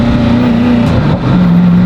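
Koenigsegg Agera RS hypercar engine droning loud and close, its pitch dipping briefly before settling onto a higher steady tone.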